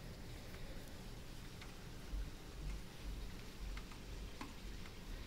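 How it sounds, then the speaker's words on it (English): Steady heavy rain falls outside, giving a dense, constant hiss with faint scattered patter, recorded close and fairly quiet with no voices. "That's the amount of rain."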